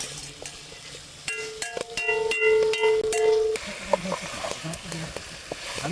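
Spiced chicken stirred and frying in a pan over a high flame, scraping spoon strokes and clinks over a soft sizzle, with a tonal note in the middle stretch.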